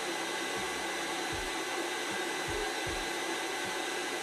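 An induction heater heats a rusted nut until it glows red, giving a steady, close whooshing hum with a few soft low thumps underneath and no talking.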